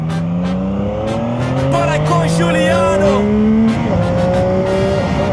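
CF Moto 675 motorcycle revving hard and accelerating through the gears, engine pitch climbing repeatedly with drops at each shift, loud and close, while someone speaks briefly over it.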